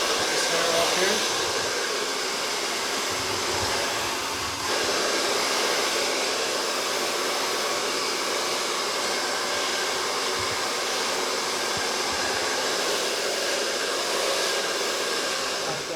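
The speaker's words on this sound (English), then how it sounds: "I'm going to blow dry it from underneath." A hair dryer blows steadily and loudly at close range for the whole stretch while hair is dried from underneath at a barbershop.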